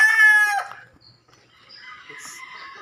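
A loud rooster crows once up close, the call breaking off, followed by softer clucking and fowl noises nearby.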